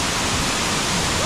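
La Romana waterfall in Barinitas, Venezuela, a dense and loud unbroken rush of falling water filling the whole short stretch, close by and without voices.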